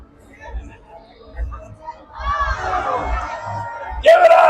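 At a Howl-o-Screams Halloween show at SeaWorld San Diego, an audience of adults and children bursts into loud cheering and shouting, building after scattered murmurs and swelling sharply near the end.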